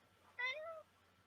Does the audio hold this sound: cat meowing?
yes